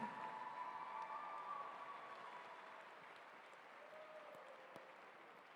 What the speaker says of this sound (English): Let's have a big round of applause for the 19th District All-Tournament team